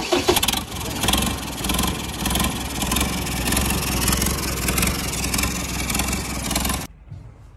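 A turbocharged vehicle engine with a faulty turbo cranks, fires up and idles loudly up close, a dense rumbling drone that holds steady before cutting off abruptly near the end.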